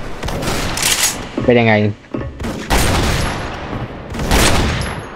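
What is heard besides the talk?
M82 Barrett rifle gunshots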